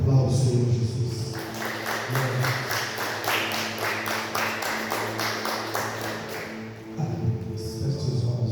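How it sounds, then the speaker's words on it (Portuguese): A church congregation claps in praise, with many hands producing a dense, steady patter of applause that lasts several seconds. It swells in the middle and fades out, with voices underneath. "Aplauda o Senhor Jesus."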